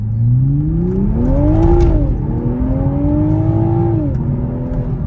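A stock Toyota Supra with a B58 engine accelerates hard, its loud engine note climbing in pitch through two rising sweeps with a brief dip at the shift, close and continuous.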